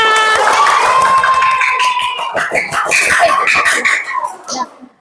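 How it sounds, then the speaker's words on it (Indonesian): Children in a classroom clap and cheer together, with loud, bright shouting and rhythmic clapping that thins out and stops near the end. "tepuk tangan untuk kita semua"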